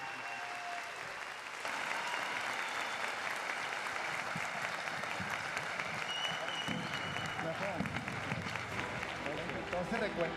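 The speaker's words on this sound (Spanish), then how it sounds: "Un aplauso." An audience at a book fair in Bogotá bursts into sustained applause, dense clapping from a crowd that swells after a moment and continues steadily, with a voice faintly present under it.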